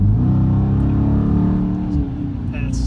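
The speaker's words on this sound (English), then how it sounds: "Get on the throttle. It's nice to have it just pop down a gear and go." A 2017 Dodge Challenger R/T Plus V8 drops a gear and accelerates hard, its loud, deep engine note swelling and rising in pitch as it pulls steadily, heard from inside the car.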